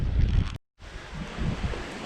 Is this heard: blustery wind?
yes